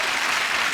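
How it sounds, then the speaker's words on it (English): A studio audience at a chat show breaks into a brief, dense burst of loud clapping that fills the whole moment, with no voices standing out. "the audience would be clapping the new road in Port Talbot"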